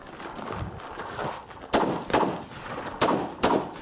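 Gunfire at a USPSA multigun nationals match as a shooter engages close targets, four or five sharp shots in irregular quick succession, moderately near, over steady outdoor background noise.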